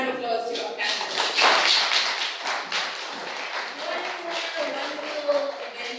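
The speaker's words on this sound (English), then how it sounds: "I'd love for us to give a round of applause to our panelists" A crowd claps together in sustained, dense applause for panelists at a fashion school panel discussion, with a steady spread of hand claps, while some voices carry faintly underneath.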